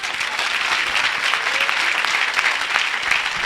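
Congregation at a church service applauding Jesus: steady, dense clapping from a large crowd, continuous and close throughout.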